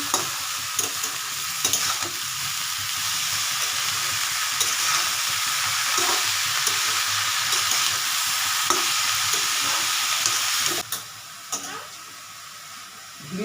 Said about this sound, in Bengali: ঝিঙেগুলো দিয়ে দিচ্ছি আমি নাড়াচাড়া করে নিচ্ছি